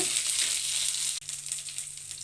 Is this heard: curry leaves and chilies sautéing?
yes